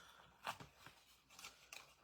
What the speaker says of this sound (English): I'm going to cut these off.